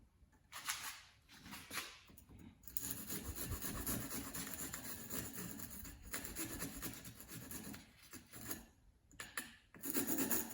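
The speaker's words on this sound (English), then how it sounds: "And then we just file it just to clean it up." A file rasps back and forth over the cut ends of rubber golf club grip strips, quiet repeated scraping strokes in short bursts with brief pauses between them, no voices.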